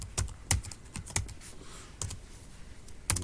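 Scattered keystrokes on a computer keyboard as a library search is typed into a college web page, a handful of separate crisp clicks spaced irregularly, close and quiet, with no talking.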